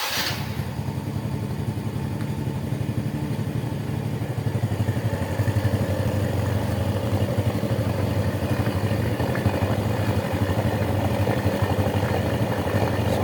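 Two four-stroke motorcycle engines, one fitted with a racing oil pump and one with a standard oil pump, idle together in a dark setting, a steady close rumbling drone with a faint mechanical clatter running throughout.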